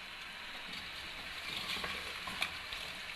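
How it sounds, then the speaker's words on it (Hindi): Steady crackling sizzle of masala spices frying in a hot pot for chicken biryani, continuous and fairly close, with a few sharper pops near the end. "अब हम इसे अच्छे से भून लेते हैं"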